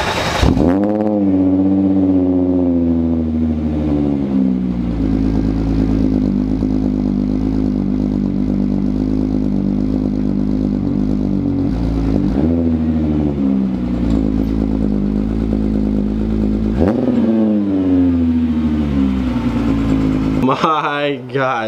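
A car engine runs loud and steady at idle with a deep rumble while the car backs out, and the revs rise a few times over about twenty seconds.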